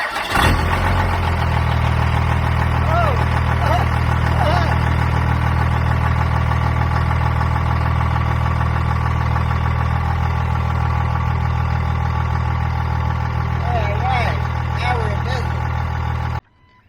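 A 2nd gen Cummins diesel truck engine cranks, fires and settles into a loud, steady rumbling idle that runs without a break for about sixteen seconds, then cuts off abruptly.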